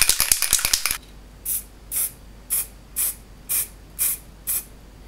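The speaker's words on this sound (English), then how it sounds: "I will just go ahead and spray." A few quick rattling clicks, then a steady series of short spray-can hisses, about one every half second, close and fairly loud.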